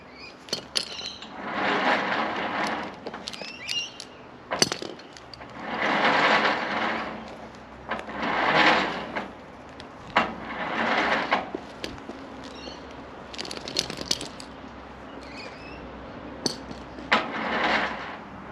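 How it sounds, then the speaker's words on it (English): Winch on a Toyota Prado spooling its rope out and winding it back in: repeated swells of motor whine lasting a second or two each, separated by pauses, clunks and faint clicks, at moderate distance. "just to spool the winch out and pull it completely out and just wind it back in again"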